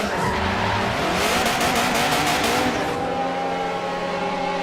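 A WTCC-style touring race car at Monza locks its brakes on the grass, a loud close skid and squeal of sliding tyres over the engine's drone that fades after about three seconds.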